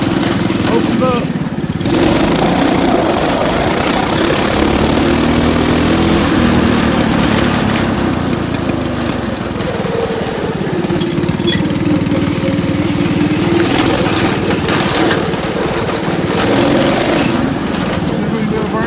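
A go-kart engine runs hard with the throttle opened up on a street pull, a loud continuous mower-like buzz with rising and falling revs throughout, close to the mic.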